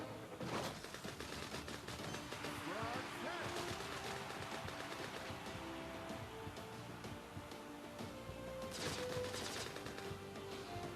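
Gunfire in the shooting game Frag comes in rapid, crackling bursts, with repeated automatic fire and a heavy volley near the end over a busy game soundscape.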